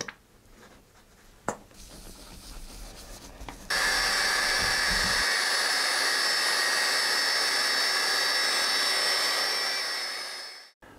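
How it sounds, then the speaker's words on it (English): A polishing wheel buffs a carbon fiber car bonnet mould. After a few quiet handling knocks, the tool spins up into a loud, steady, high-pitched whine that holds for several seconds and then winds down at the end. "as we're going to do, using a polishing wheel."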